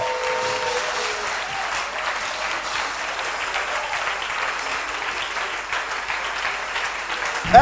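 A church congregation at a French-language service applauds in a sustained, dense wash of clapping that holds steady throughout, moderately loud and filling the room.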